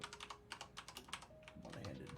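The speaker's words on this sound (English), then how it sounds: "One-handed typing." Quick, irregular clicks of one-handed typing on a computer keyboard, faint and close, in short bursts over a couple of seconds.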